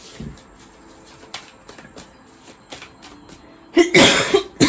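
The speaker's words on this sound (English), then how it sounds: "I never start coughing until I come and do this tarot" Several short, scattered coughs sound close by, ending in a louder burst of harsh coughing.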